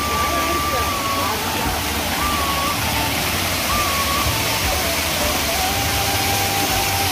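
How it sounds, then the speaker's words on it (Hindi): A small waterfall rushes steadily in a hilly fossil park, a continuous broad hiss of flowing water, with someone talking over it throughout. "यहाँ पर एक थोड़ा सा झरना है छोटा सा बिल्कुल"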